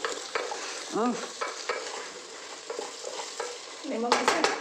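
Fish curry masala being stirred with a spoon in a pan after cumin powder goes in: low frying sizzle under repeated scraping strokes and a short clatter near the end, close by, no talking.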